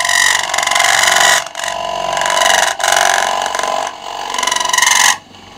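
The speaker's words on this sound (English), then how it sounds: "This little cutter is going to go in that way, and I'm going to pull it into the hole" A lathe cutter cuts a groove at the bottom of a hole while turning a darning mushroom, making a loud, steady, harsh cutting whine in three long passes with brief gaps between them.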